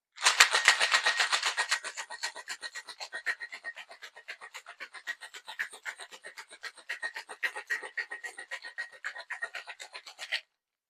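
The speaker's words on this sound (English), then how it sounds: "Put the top on nice and tight and shake until it is nice and cold in your hand" A metal cocktail shaker tin filled to the top with ice is shaken hard and fast. Loud, rapid rattling strokes keep an even rhythm for about ten seconds, on their own with no talk.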